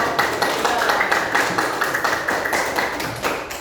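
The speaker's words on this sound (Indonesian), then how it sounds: "Tepuk tangan untuk kelompok." A classroom group of students claps together in a steady, fairly loud burst of many hands lasting a few seconds, close and without talk.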